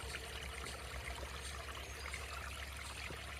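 Two split garden-pond waterfalls splash and trickle in a continuous, even rush of water at a koi pond among bog bean and water lettuce, steady and unbroken with no voices.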